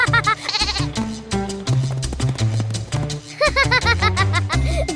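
A white goat named Chandu bleats over and over in a cartoon, with loud, near, wavering cries broken by short pauses.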